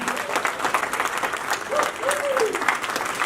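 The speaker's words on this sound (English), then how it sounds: "Let's give them all a big round of applause." A crowd claps steadily for a few seconds, with a faint voice or two rising briefly above the applause.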